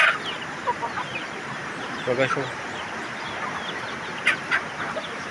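Chickens cluck in short, scattered calls around a rural house at moderate distance, under steady outdoor background noise, while someone speaks briefly.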